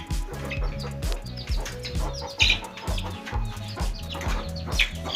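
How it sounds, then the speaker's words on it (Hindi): A hen clucks close by in a steady run of low, repeated clucks, with faint high chick peeps scattered over the top. "अच्छा, ये मुर्गी है। ये इसके बच्चे हैं, मुश्किल में मुर्गी।"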